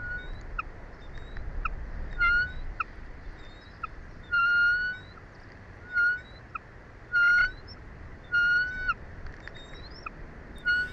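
A bald eagle on a nest squawks in a series of short, high, piercing calls, repeated irregularly at moderate distance over steady outdoor background noise.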